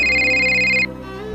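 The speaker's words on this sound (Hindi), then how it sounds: "अरे मेरी बिटिया का फोन आया" A phone ringtone sounds loud and close, a quick pulsing electronic tone that plays for under a second before cutting off.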